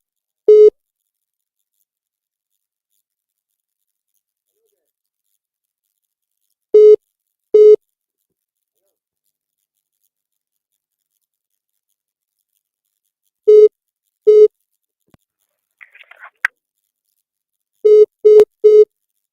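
A telephone busy tone follows a dropped call-in caller on a radio show: short beeps in sparse pairs separated by long silences, with a faint brief chirp near the end.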